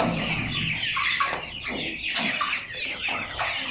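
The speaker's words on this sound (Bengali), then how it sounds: "এই জন্য সব মুরগি চলে আসছে।" Tiger breed chickens cluck and call repeatedly in a coop bedded with sand and straw, a series of close, irregular bursts over a faint background hum.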